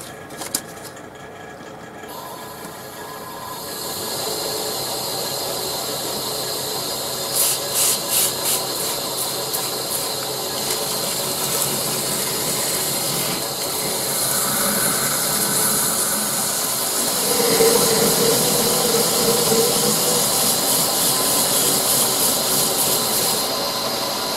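A handmade tankard is flatted with 400-grit wet and dry paper, producing a continuous close rasping rub with a few brief louder strokes in the middle.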